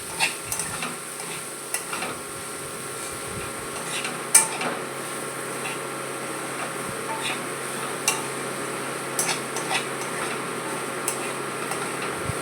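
Soaked flattened rice being stirred with yogurt in a pan, giving soft scraping and light clinks of a spoon against metal over a low steady hiss, with a few sharper taps.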